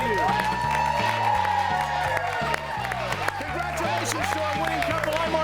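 A game show studio audience claps and cheers as the episode wraps up, the crowd noise sitting under upbeat theme music with a repeating bass pattern throughout.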